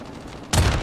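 Call of Duty gunfire: after a quiet, murky stretch a loud, dense burst of shots erupts abruptly halfway through and continues to the end.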